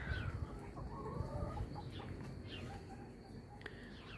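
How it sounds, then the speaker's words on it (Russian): Hens cluck and murmur softly in a group on a Swiss farm, scattered short calls at a moderate distance over a quiet farmyard background. "А здесь курочки."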